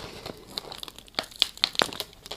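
Crinkly plastic packaging being pulled open around a star-shaped firework, a series of sharp close-up crackles and crunches that peak in bursts over a couple of seconds.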